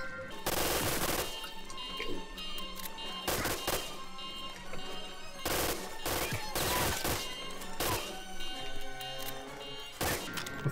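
An MG44 machine gun in the World War II shooter Medal of Honor: Allied Assault fires in repeated rapid bursts, loud and close, with brief pauses between volleys and game music underneath.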